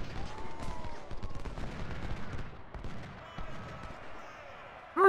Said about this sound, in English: Our skirmishers over here are apparently engaging with enemy artillery.